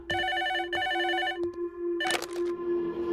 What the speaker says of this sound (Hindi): ये फोन तेरे लिए है, जा जाकर उठा।